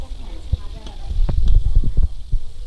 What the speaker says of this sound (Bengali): এখানে মাছের ঝোলের জন্য আলুগুলো ভাজছে